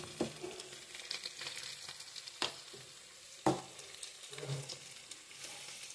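A masala paste of ground mustard seeds and cumin frying in a pan for a mutton curry, a soft steady sizzle with a few stirring scrapes, faint and close, with no voices.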